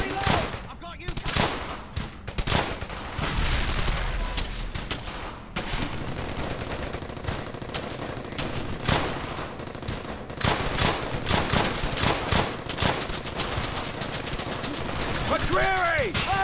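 Heavy gunfire in the World War II shooter game Brothers in Arms: Hell's Highway: rapid, loud bursts of rifle and machine-gun shots crackle throughout, with voices calling out over the battle.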